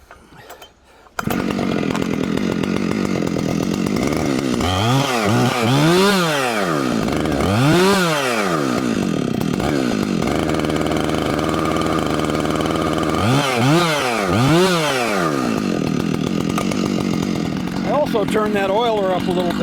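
A new Husqvarna chainsaw in a woodyard runs after burrs were ground off its bar, starting up loud and close and revving repeatedly in rising and falling surges over a steady idle, with a person talking at times.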